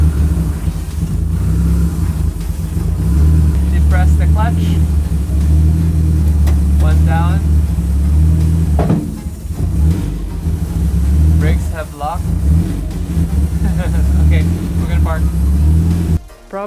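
A car engine running up close with a heavy, steady low rumble that fills the whole stretch, rising slightly at moments, while a voice speaks intermittently over it.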